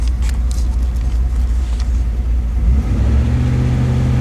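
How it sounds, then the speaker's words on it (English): A Chevy 350 V8 with low oil pressure is revved briefly. The engine rumbles near and loud, swells with the throttle and then quickly falls back toward idle. "Give it the old little rev action here, and I mean it quickly falls off."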